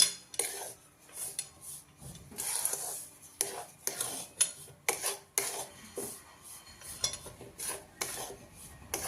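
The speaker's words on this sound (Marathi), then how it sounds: "काजू बदामची जी पावडर केलेली आहे ती पण त्याच्यामध्ये मी मिक्स करून घेते आणि हे चांगलं आपण एकजीव करून घेऊया" Cashew-almond powder being stirred into a sago ladoo mixture in a pan, with repeated scraping and rubbing strokes of a spoon against metal in an irregular rhythm, close and fairly quiet, with no talking.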